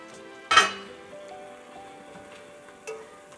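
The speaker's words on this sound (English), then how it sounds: "I'm just going to throw in the celery and the carrots" Chopped celery and carrots hit a hot pot with a sharp clatter and burst of sizzle, followed by a quieter frying hiss and a second brief clink of utensil against metal.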